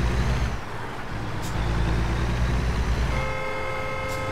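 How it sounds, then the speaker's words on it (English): Big rigs in the American Truck Simulator game idle with a heavy diesel rumble and an air-brake hiss, then a long, sustained truck horn blares loudly near the end, with a second horn joining it. "They're just gonna sit back there and honk at each other"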